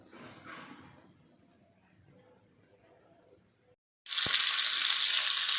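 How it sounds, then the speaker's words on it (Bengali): Fish fries in hot oil with a loud, steady, close sizzle that starts abruptly after a stretch of quiet background sound and then holds constant. "আমি এখানে মাছ ভাজা তুলে দিয়েছি"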